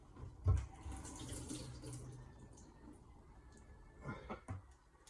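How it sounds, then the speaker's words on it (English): Running water splashes and trickles steadily, with a few louder splashes and clunks as a whetstone is rinsed under a tap. "I'm going to just wash that one off for a minute."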